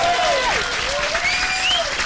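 A festival audience claps steadily and loudly after a film introduction, with a few whistles rising over the applause.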